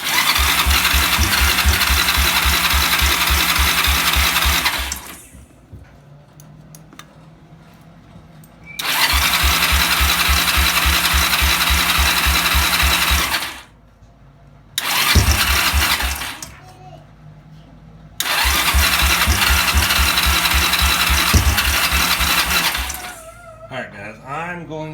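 A Kawasaki ATV engine on partial choke is cranked and fires in three loud bursts of rapid, chattering running, each cutting out into quiet gaps, with a voice audible during the pauses.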